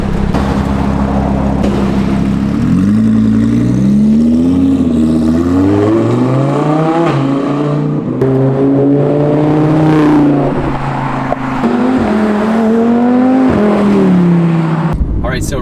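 An Audi R8 V10 Plus fitted with a Capristo exhaust drives past, its V10 engine revving hard with rising and falling pitch as it accelerates through gears, loud and close, swelling and fading across repeated passes with a brief sharp burst at the end.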